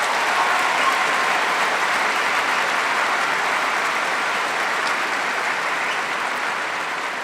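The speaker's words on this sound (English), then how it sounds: "please help us give this amazing staff a well-deserved round of applause" Sustained applause fills a graduation ceremony crowd at Rock Canyon High School as they honor the school staff, a dense, even roar of many hands clapping alone that tapers slightly toward the end.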